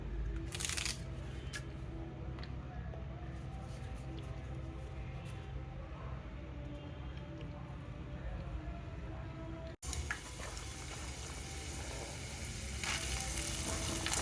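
Tempering spices, dried red chillies and sliced onions crackle in hot oil for a home-style okra curry, a quiet steady sizzle with faint stirring scrapes, growing brighter and louder after a brief break partway through.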